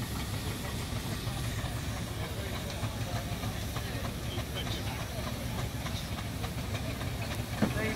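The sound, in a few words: steam traction engine hissing at steam rally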